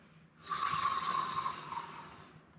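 A deep breath taken during a core breathing exercise, one long airy rush of breath through the nose or throat, close and fairly soft, swelling then slowly tapering over about two seconds.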